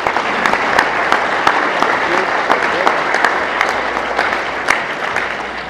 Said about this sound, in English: Please give a round of applause for our State Treasurer